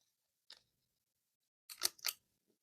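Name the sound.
scissors cutting pattern paper corners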